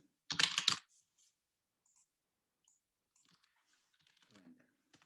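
A quick burst of computer keyboard typing, a rapid cluster of sharp key clicks lasting under a second, then near silence with faint talk later.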